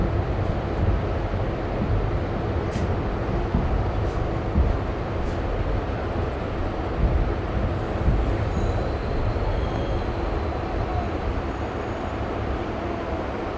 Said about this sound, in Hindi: उचौलिया स्टेशन से ट्रेन ने डिपार्चर ले लिया है।